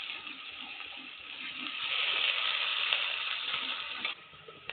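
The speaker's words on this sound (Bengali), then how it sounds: "পেঁয়াজ লাল লাল করে ভেজে নেব।" Chopped onions frying in hot oil for a fish curry, a faint steady hissing sizzle that swells in the middle and eases off, with small crackles and no talking.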